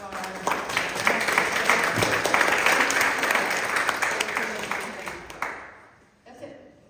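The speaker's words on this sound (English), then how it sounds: "a round of applause to all of you that work so" Members at a club membership meeting give a round of applause, a steady patter of many hands close by that gradually fades out, followed by a brief voice.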